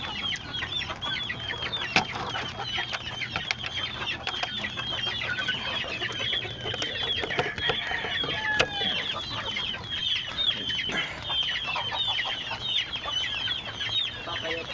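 Hens cluck repeatedly at a small backyard chicken farm, with busy, overlapping calls and occasional sharper squawks from several birds close by over a steady background hum.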